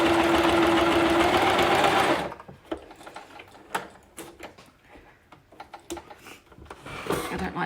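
A sewing machine stitches a seam on a rainbow cushion with a loud steady whir for about two seconds, then stops, followed by soft handling clicks and fabric movement nearby.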